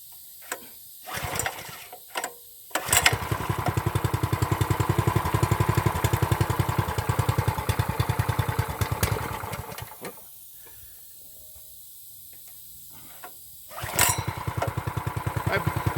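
A 212cc mini bike engine with a thumb throttle is pulled a few times, then catches and runs steadily for several seconds. It cuts out, stays quiet for a short gap, then fires up again, loud and close.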